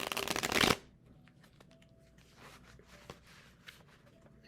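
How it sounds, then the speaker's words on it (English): A quick, crisp riffle of tarot cards shuffled close up, then quiet handling and soft rustling of the deck. "I just want to shuffle these really well."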